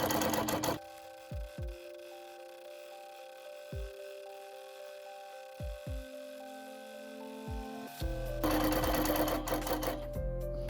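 A longarm quilting machine bastes a quilt in short bursts of running motor hum with pauses between them, then runs continuously near the end. No one speaks over it.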